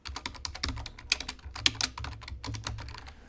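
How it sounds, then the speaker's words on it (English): Rapid, irregular clicking of keys on a computer keyboard, close and clear, with uneven bursts of keystrokes and brief pauses. "my typing is bad and the spelling might be incorrect"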